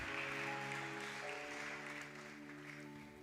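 A church congregation applauds, a broad wash of clapping over a sustained tonal hum that fades slightly toward the end.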